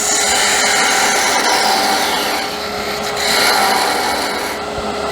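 A turned wooden Christmas sphere ornament being parted off on a lathe, a loud, continuous rasping cut with a rubbing, grinding texture that shifts in pitch as the tool works through the wood.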